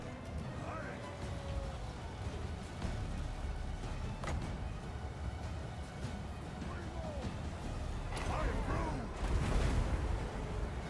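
Dwarf cannon artillery fire in the game Warhammer II, several sharp booms spaced irregularly over a rumbling battle din, with a louder cluster of blasts near the end and someone talking throughout.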